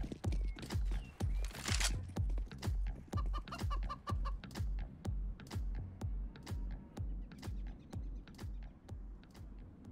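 Chickens cluck in the CS:GO video game over a fast, steady run of close footsteps pounding throughout, with a brief noisy burst near the start.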